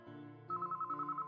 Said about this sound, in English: The phone started ringing